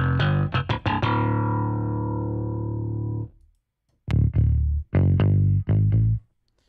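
A virtual bass preset from Native Instruments Session Bassist Prime Bass plays a few plucked notes, then a long sustained tone, then after a short silence several more separate punchy notes.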